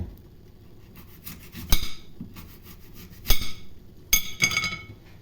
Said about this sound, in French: Donc, je découpe ma pomme de côté.